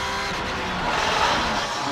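GT race car in the pit lane during an FIA GT round at Adria Raceway, a loud, steady broadband engine roar that holds close and constant for the whole two seconds with no talk over it.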